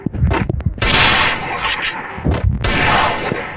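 Rapid gunfire bursts from a mobile shooter video game, loud and close, with sharp repeated shots in quick clusters and short gaps between them.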